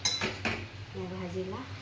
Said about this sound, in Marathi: आता याला मिक्स करून घेऊन घेऊया